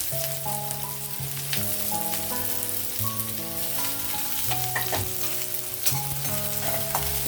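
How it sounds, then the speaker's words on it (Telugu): Onions fry in oil for a beans and potato curry, a steady bright sizzle running beneath a melodic instrumental tune that dominates the foreground. "ఆనియన్ వేగుతున్నాయి"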